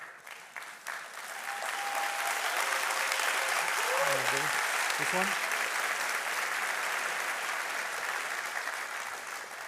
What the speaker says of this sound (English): you're clapping for this or for the thank you?